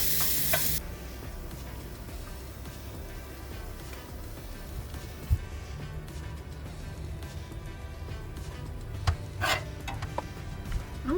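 Breakfast sausage, onions and eggs fry in a pan at a lakeside campsite, a steady close sizzle with occasional stirring scrapes and a couple of sharp clinks, no talking.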